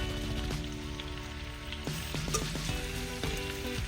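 Marinated beef tail fries in a pan with a steady crackling sizzle, close up, punctuated by occasional utensil clinks and stirring scrapes.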